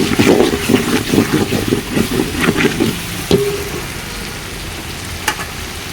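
Water poured into a frying bombadai (Bombay duck) tomato curry in a pan, loud bubbling sizzle and stirring at first that settles to a quieter simmer with a single clink near the end.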